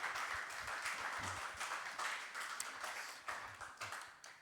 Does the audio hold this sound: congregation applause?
yes